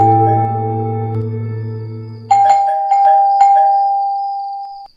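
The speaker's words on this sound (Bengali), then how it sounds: "Calling bell বাজালাম।" An electronic doorbell at a house rings at night in a Bengali horror story, a long low tone followed by a bright ding-dong chime struck a few times that rings out and fades.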